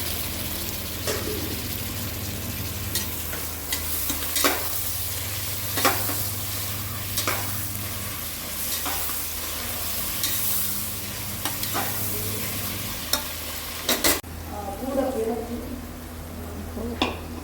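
Tomatoes and ginger-garlic paste frying in a pan, a continuous close sizzle with regular spatula taps and scrapes as they are stirred, a voice speaking over it.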